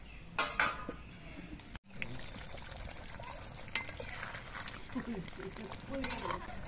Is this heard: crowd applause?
no